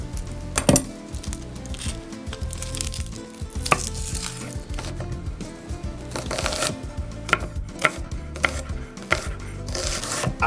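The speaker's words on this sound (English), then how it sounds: "I'm going to begin by chopping up 2 shallots." A knife chops two shallots into rings on a cutting board, with quick, close, rhythmic tapping strikes repeating steadily throughout.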